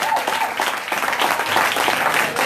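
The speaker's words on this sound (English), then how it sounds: "Clap, clap, clap, clap, clap, clap, clap unto God." A church congregation in Accra claps together in worship, a close, busy patter of many hands with uneven surges in intensity, and faint voices mixed underneath.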